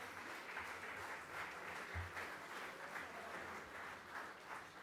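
Faint, steady applause from the audience at the 2014 GovHack Red Carpet Awards ceremony, an even wash of clapping heard from a distance and continuing throughout.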